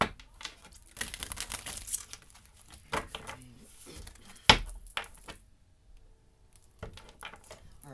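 A tarot deck is shuffled and riffled in irregular bursts of crisp papery flutter, with a sharp snap partway through and quiet gaps between.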